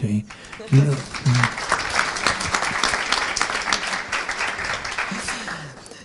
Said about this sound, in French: Tout le monde applaudit quand vous vous énervez